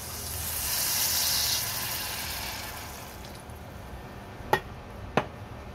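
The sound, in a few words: water added to hot pan, sizzling, for sinigang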